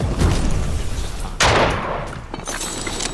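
Fortnite shotgun blasts during a Chapter 3 Season 2 match, several sharp bursts of gunfire including one loud close shot, with a softer shot following.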